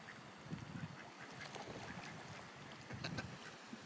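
Ducks quack in two short clusters, a few calls each, over a steady wash of outdoor water noise at Quail Lakes.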